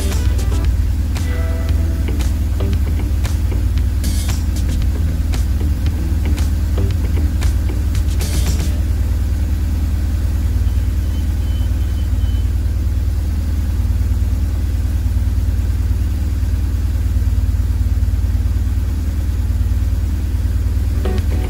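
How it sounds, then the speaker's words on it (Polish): A BMW R1150GS motorcycle engine idles while warming up, a steady drone that goes on evenly without change, with a few clicks and rattles early on. "Grzejemy silnik do 100 stopni Celsjusza."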